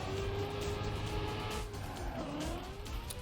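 Race car engine droning loudly in Trackmania as the car runs onto grass, steady mid-pitched engine tone with a tire scrub sliding in, continuous and close.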